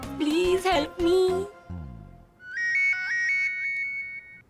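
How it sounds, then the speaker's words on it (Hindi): A phone rings with a melodic ringtone for an incoming call, a bright repeating electronic tune that plays clearly on its own after a brief, louder tonal passage. "मासा का फोन।"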